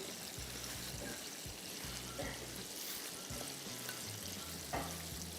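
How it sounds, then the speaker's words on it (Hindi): Minced meat is mixed by hand with chopped onion, black pepper and salt, giving soft, wet squelching and stirring sounds in an uneven rhythm, close and fairly quiet. "इसको सबसे पहले मैं करूँगा मिक्स, कीमा, चॉप किया प्याज, काली मिर्च और नमक"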